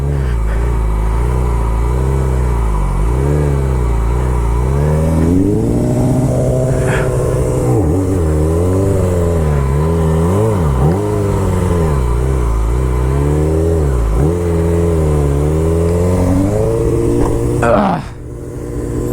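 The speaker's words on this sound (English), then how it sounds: "little death spin attempt there." A car revs hard during a death spin in a lot, its loud, close engine climbing and dipping in repeated surges that waver in pitch for over ten seconds before an abrupt break near the end.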